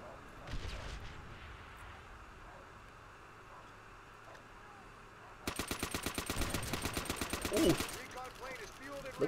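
StG assault rifle gunfire in Call of Duty: World at War, a rapid burst of evenly spaced automatic shots in the second half after quieter game ambience and scattered distant shots.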